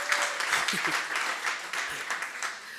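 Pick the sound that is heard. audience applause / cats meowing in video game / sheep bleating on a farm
audience applause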